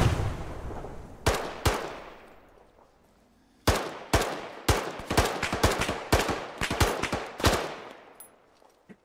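Gunshots ring out in the military shooter Arma with the Antistasi mode, a few isolated sharp cracks followed after a pause by a rapid uneven string of loud shots with echoing tails.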